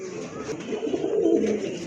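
A pigeon coos softly and continuously at close range, a low, throaty burble with no other sounds over it.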